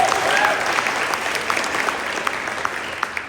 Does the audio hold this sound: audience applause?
yes